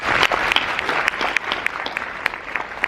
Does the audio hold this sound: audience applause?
yes